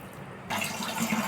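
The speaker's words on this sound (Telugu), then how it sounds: "అలాగే కొంచెం వాటర్ కూడా యాడ్ చేసుకుందామండి" Water is poured into a pot of egg dum biryani, starting suddenly after a quiet moment as a soft, steady gush that continues briefly.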